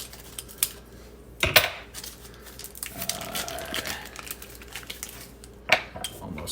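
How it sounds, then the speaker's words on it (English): Scissors snip and tear through the plastic packaging of a vegan porkless tenderloin, with a few sharp clicks and crinkles over quiet rustling. "the inner plastic will have some holes, so you can get the scissors in there and cut it even better"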